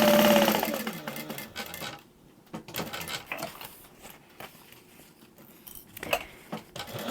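A sewing machine runs briefly up close, sewing around two pieces of backpack fabric, then gives way to scattered clicks and rattles of the machine and fabric being handled.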